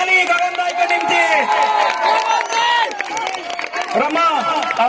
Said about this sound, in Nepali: कन्टिन्यू ताली गगन दाइको निम्ति।